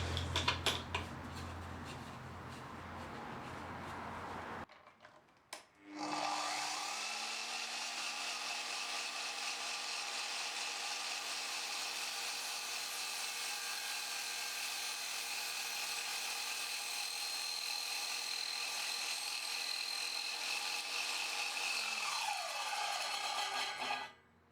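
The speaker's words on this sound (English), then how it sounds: "so I had to use the slide feature to complete the cut slowly" Sliding mitre saw cutting a UPVC plastic skirting board, a steady high whine running loud and close for nearly twenty seconds after a short burst of machine noise and a brief pause, then winding down.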